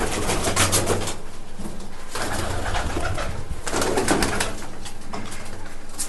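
Loft pigeons, including young from birds released in a flying contest, coo in low repeated phrases, partly masked by loud bursts of wind or handling noise close to the microphone.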